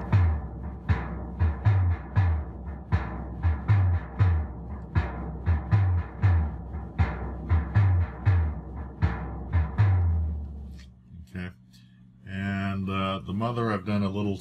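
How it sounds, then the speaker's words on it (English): Moog DFAM drum synthesizer playing a tribal drumming preset, a steady repeating pattern of punchy percussive hits with deep thumps and sharper ticks, running for about ten seconds before a voice starts talking. "I've just used one of their presets to come up with a kind of a tribal drumming"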